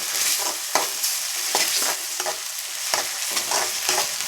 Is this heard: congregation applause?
no